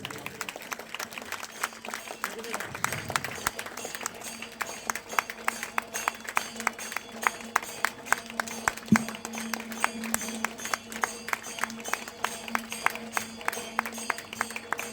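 Sustained audience applause at a temple award ceremony, dense steady clapping from a crowd lasting throughout, with brief faint voices underneath.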